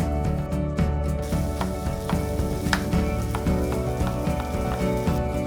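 Cauliflower florets, frozen peas and red onion sizzling in hot cumin-flavoured oil in a pan for vegetable pulao, a loud continuous close frying hiss with a few sharp crackles and stirring clicks.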